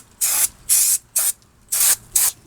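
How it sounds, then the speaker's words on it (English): Brake cleaner is sprayed onto brake dust on the rear brakes of a 2001 Chevy Silverado 1500 4x4: five loud, close hissing bursts, each roughly a quarter to half second long, separated by brief pauses. "I try not to spray too much on the pad material itself or saturate that too much"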